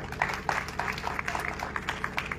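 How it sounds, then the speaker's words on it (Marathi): An audience at a constitution conference gathering applauds, with a sustained patter of many hands clapping together at moderate loudness, individual claps standing out in a continuous rhythm. "टाळ्या वाजवल्या आपण"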